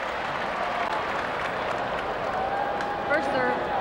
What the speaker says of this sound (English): Ovation for both.